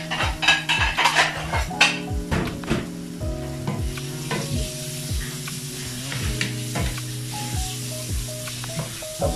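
Crabs fry in a pan for spicy mixed seafood in Cajun sauce, with loud steady sizzling and repeated metallic scrapes and clinks of a utensil stirring against the pan, all without talk.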